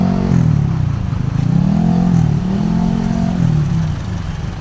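Cars and motorcycles move through street traffic on Mango Avenue in Cebu, a busy nightlife strip. A steady, loud engine rumble rises and falls as one nearby engine revs up and passes. No voices.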